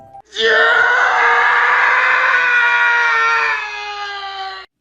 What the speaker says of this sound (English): you can still hear the boy scream